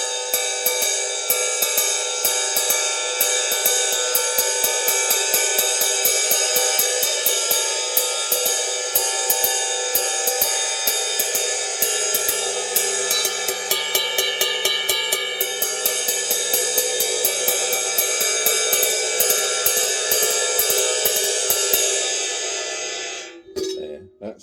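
A worn 22-inch Pearl CX600 cymbal is ridden with steady, even strokes, its bright wash building continuously for over twenty seconds before being choked off.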